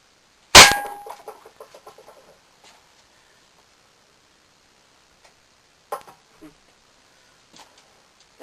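Marksman repeater BB and pellet gun shot striking a can, one sharp loud metallic clang with a ringing, bouncing tail, followed by a few fainter clinks.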